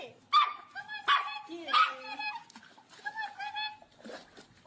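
Two dogs, one seemingly pulling the other under water, give close, loud, high yips and barks in quick repeated bursts, with whimpering yelps between them.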